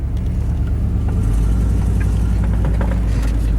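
Off-road vehicle engine running as four-wheel drive is engaged on a rough trail, a loud, close, steady low idle rumble with a deepening drone partway through and no talk.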